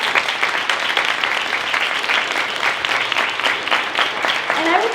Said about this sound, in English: Can we give them all a round of applause?